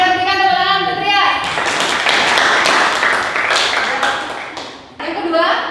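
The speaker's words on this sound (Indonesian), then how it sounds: "Kita berikan tepuk tangan untuk Trias." A classroom of students claps for a classmate, a dense burst of hand claps lasting several seconds after a teacher's spoken prompt, with voices heard briefly before and after the applause.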